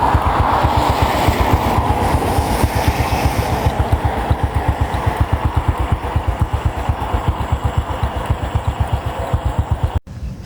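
A Honda 110cc motorcycle ridden through the Vietnamese countryside in the heat, its small single-cylinder engine thrumming loud and steady with a rapid even pulse, then cutting off abruptly at the end.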